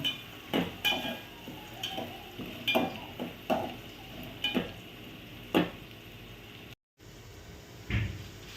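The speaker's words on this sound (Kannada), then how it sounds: "ಈರುಳ್ಳಿ ಚೆನ್ನಾಗಿ ಫ್ರೈ ಆಗಬೇಕು" Chopped onions fry in a pan after garlic and ginger, with repeated sharp clinks and scrapes of a spatula stirring against the pan over a low sizzle, close by and without speech.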